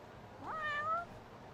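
A cat meows once in the video game Lost Judgment, a single clear, rising-and-falling mew lasting about half a second over a soft background hum, with no talking.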